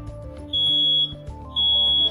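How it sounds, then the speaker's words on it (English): A smoke alarm sounds two loud, shrill, sustained beeps about a second apart, close by, over a faint low hum. "Project Safe just installed another smoke alarm"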